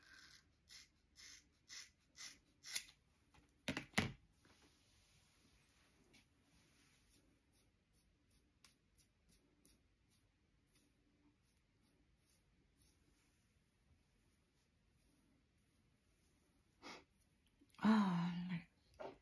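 Scissors snip through hair close by in a quiet room: a series of soft, crisp clicks in an uneven rhythm, then a brief louder rustle near the end.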